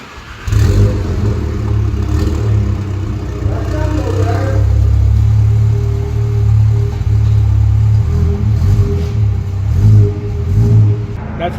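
A VW Mk7 GTI fitted with an ArmyTrix catless downpipe and catback exhaust rumbles loudly and close, its low engine note swelling with revs over several seconds while people talk nearby.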